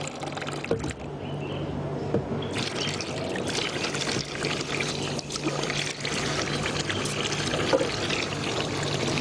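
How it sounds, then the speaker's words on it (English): Tap water runs close by as hands are rinsed, a steady gushing pour with small splashes and shifts in the flow, going on the whole time with no talking. "So after that, you rinse your hands."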